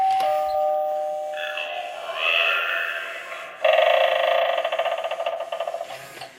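An electronic doorbell plays a multi-note chime melody, then a buzzy rattling ring pulses rhythmically for several seconds, loud and close.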